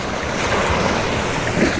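Sea waves washing steadily against the shore, a broad continuous rushing surf mixed with wind buffeting the microphone, loud and without talk.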